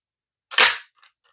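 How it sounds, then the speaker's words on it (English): A curved 12-round magazine drops free from a Dart Zone Max Stryker toy blaster and lands with one sharp clack, followed by a faint rattle, alone and close. "You can gravity drop this curved little 12 round mag that we got here."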